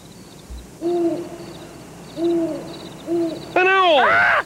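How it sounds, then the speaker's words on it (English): An owl hoots three times in a soft, evenly spaced series, followed by a louder burst of high warbling calls, heard in a quiet nighttime setting with faint background noise. "An owl, that's what that is, Bert. That's an owl."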